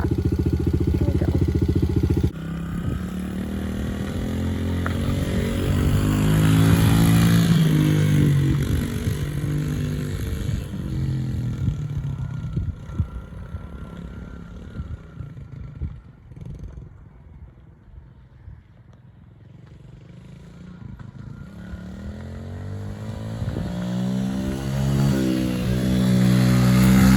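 A dirt bike engine runs loud and close, revving up and down in rising and falling sweeps, dipping briefly toward a rough low idle before climbing again, with no talking.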